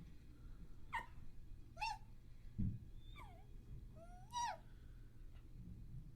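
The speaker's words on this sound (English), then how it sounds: "The dog is uncomfortable with that" A dog whimpering in several short, high, whiny cries with falling pitch, spaced a second or so apart, fairly close, over a low background hum.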